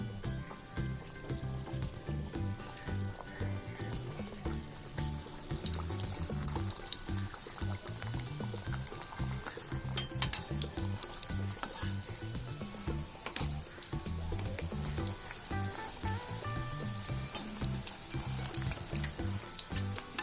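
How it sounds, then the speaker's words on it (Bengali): Egg biscuits fry in hot oil with a thin, continuous crackling hiss and small popping bubbles, moderately quiet, accompanied by a low, steady tonal hum. "এবার তেলের মধ্যে বিস্কুটগুলো দিয়ে ভেজে নেব"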